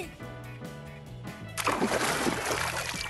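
Someone splashes into water on a homemade water mattress, with a burst of sloshing and splattering that cuts in over light background music and then keeps swirling.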